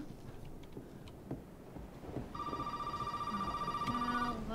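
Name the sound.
telephone ringing in video game Resident Evil 7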